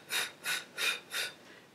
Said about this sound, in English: as we release, breathing out in almost little puffs of breath